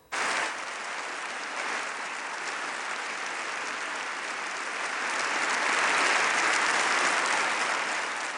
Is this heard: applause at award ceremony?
yes